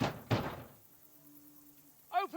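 Dull knocks on a closed castle gate in Kingdom Come: Deliverance 2, a couple of heavy thuds close by, followed by a quiet pause and a brief vocal sound at the end.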